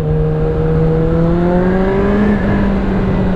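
Suzuki GSX-F 650 motorcycle engine revving steadily at high rpm, a loud sustained whine with rising harmonics, close and continuous with no speech.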